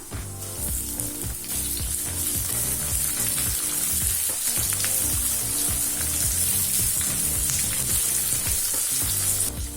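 Onions fry with ginger and garlic for tomato rice in a steady, close, continuous sizzle with faint stirring clatter throughout.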